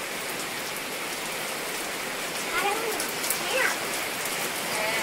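Steady rain falls near a home, a dense even hiss throughout, with faint voices briefly audible partway through.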